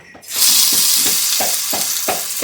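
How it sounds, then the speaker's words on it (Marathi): Brinjal slices dropped into hot oil on a griddle set off a sudden loud, steady sizzle and hiss, with soft scraping stirs repeating through the frying. "तेल घाल तवाले गरम झालाय मगाशीच आम्ही ठेवणार आहोत तसे काप टाका"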